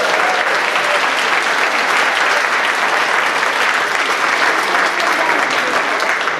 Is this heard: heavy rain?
no